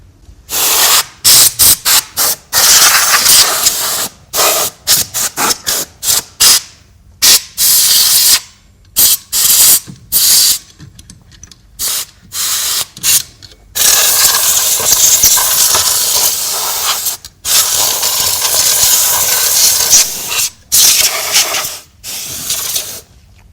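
Compressed air is blasted through a PC power supply to clear dust, in loud, close bursts of hiss, mostly short and repeated in quick succession with a few longer sustained sprays.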